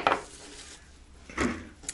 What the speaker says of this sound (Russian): А я режу, чтобы посушить яблочки.